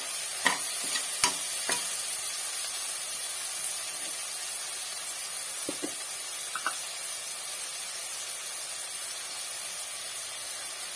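Vegetables sautéing with salt in a pan for varagu rice kichadi, a steady soft sizzle with a few scattered clinks and scrapes of stirring, no voices.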